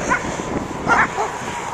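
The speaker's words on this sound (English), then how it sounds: "4 interested parties barking at me" Several dogs bark in short bursts at a passer-by on an outdoor walk, with wind and a steady background rush.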